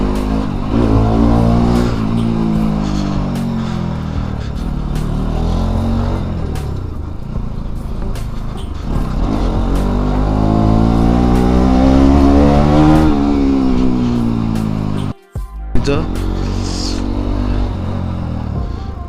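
A motorcycle engine revs loudly and steadily, pitch rising and falling in repeated sweeps, with a brief cutout near the end before it resumes; the bike's silencer is faulty.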